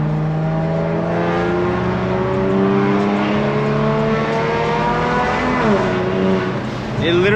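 A loud, sustained Kia Stinger engine and exhaust rumble with droning harmonics, holding steady and rising slightly in pitch near the end.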